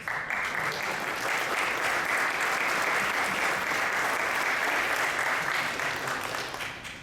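A room full of people at a Valdosta city council meeting claps steadily for several seconds, a dense, even wash of applause that tapers off at the end.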